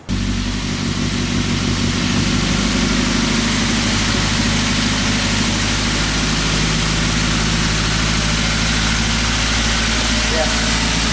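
A car with an EFI petrol engine idles too high after starting, making a loud, steady engine drone with a constant low rumble and no clear rise or fall. A voice speaks over it.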